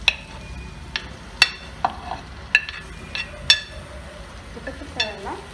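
A spoon stirs pineapple curry in a pan, with sharp metallic clinks against the pan every second or so over a faint low sizzle. No one speaks.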